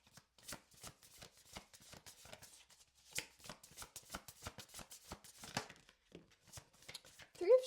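A tarot deck shuffled in quick, irregular snaps and slaps, close and fairly quiet, in bursts with short pauses between them, ending on a brief vocal sound.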